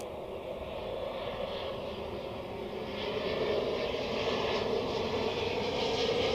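A Boeing 767 taking off at Zurich Airport, a steady broad jet engine roar that grows slightly louder partway through, heard from a distance with no talking.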